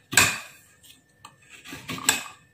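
A knife shaves a block of palm sugar without a cutting board, making close, gritty scraping strokes in a few separate bursts with short pauses between them.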